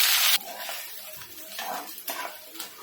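Masala paste hitting hot oil with curry leaves in a pan for a Kolhapuri chicken rassa, a brief loud sizzle at the start, then softer stirring and frying crackles close by.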